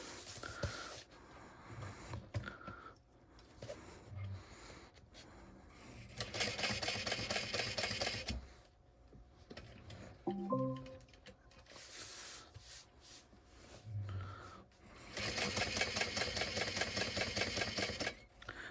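A sewing machine top stitching fabric in gray thread at stitch length 5, running in bursts of rapid mechanical stitching separated by quieter pauses with faint handling noise.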